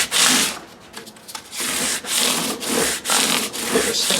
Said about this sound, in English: Now we're just scrubbing those crowns back to center, getting rid of the tooling marks of the file with the 320 grit